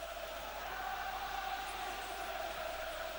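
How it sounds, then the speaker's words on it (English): Steady roar of a large football crowd at White Hart Lane during a UEFA Cup tie between Spurs and FC Brugge, a continuous dense wash of voices with no single call standing out. "just listen now to the encouragement from the White Hart Lane crowd"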